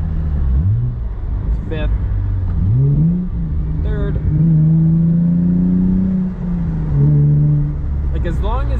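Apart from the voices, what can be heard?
Hyundai Genesis 3.8 liter rev-match downshift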